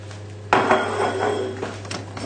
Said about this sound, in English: And then just stir in the parmesan.